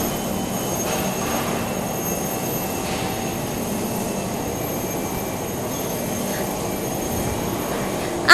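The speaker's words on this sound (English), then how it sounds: "Then we put it into the aging machine to heat and cool" An aging machine in an aluminum profile factory in China produces a steady, loud industrial roar and hum. The drone holds unchanged throughout, with no voices.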